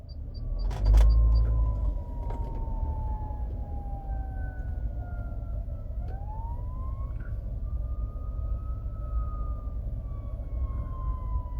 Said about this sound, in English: You can hear ambulances behind me